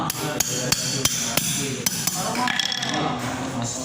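Sharp metal hammer blows drive a rocker arm pin into the cylinder head of a Yamaha Mio Sporty scooter in a workshop, about eight close, ringing strikes at an uneven pace, with a voice briefly heard near the end.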